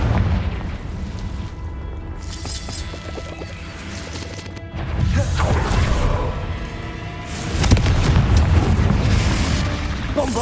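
Repeated fiery Confringo spell blasts in Hogwarts Legacy combat, loud crashing booms and bursts landing in several waves, with no talk.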